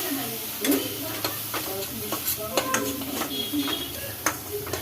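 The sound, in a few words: stirring spice mixture with chilli powder, turmeric and salt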